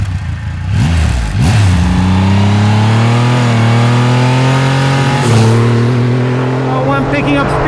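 A Triumph Rocket 3 Storm motorcycle engine pulls hard under acceleration, its loud, close rising roar climbing steadily through the gears with a brief dip near the middle, while a voice is also present.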